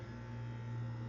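A steady air conditioner hum, close and even, with a low droning buzz that holds unchanged throughout and no talking over it.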